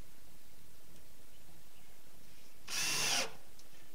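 Power drill driving a screw into a wooden board for a small chicken coop door, one brief loud whirring burst of about half a second against quiet background.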